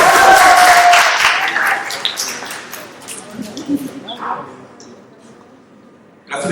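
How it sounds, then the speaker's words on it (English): A youth conference audience keeps applauding, loud and dense at the start, then fading to scattered claps with a voice over the room before a sharp burst at the end. "Keep the applause going, it's still good"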